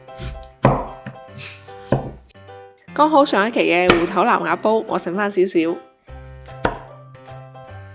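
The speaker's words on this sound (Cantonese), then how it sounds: "將佢哋切成方糖咁樣" A knife chops taro on a board in a few sharp knocks, then a speaking voice takes over, with more chopping strokes after it.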